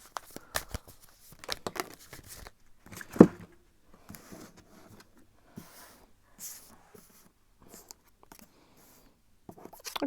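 Soft papery shuffling and riffling of tarot cards, quiet and close, with brief taps and scrapes scattered over several seconds and one sharper knock near the start.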